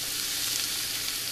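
Onions sauté in a pan for shark puttu, giving a short, steady, close frying hiss and sizzle.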